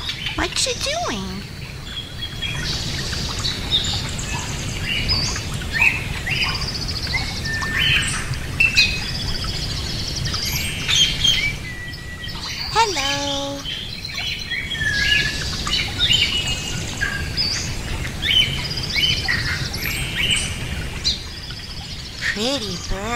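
A pet parrot squawks and chirps repeatedly in bursts of shrill calls and whistles, close and fairly loud, with a human voice talking intermittently underneath.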